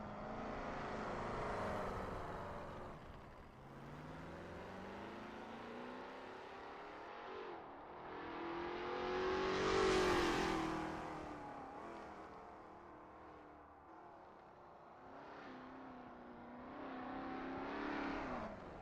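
A Lola T70 MkII Spyder race car on a practice out lap at Sebring International Raceway in a sim racing game, its engine rising and falling through gear changes, swelling to a loud peak midway, with no talk.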